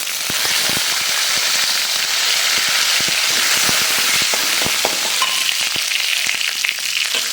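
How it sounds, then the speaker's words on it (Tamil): Mustard seeds, dried chillies and curry leaves fry in hot oil for coconut rice, giving a loud, steady sizzle dense with sharp popping crackles throughout, with no talking. "இந்த கடுகு போட்டு இதெல்லாம் நல்லா சேர்க்கும் போதே காஞ்ச பச்சை மிளகா கருவேப்பிலை சேர்த்துவோம்"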